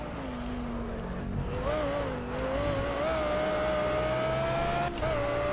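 Audi R8 GT3 race car engine in the Project Cars racing game on Xbox One, loud and close, revving up and down through gear changes with steady rising and falling pitch.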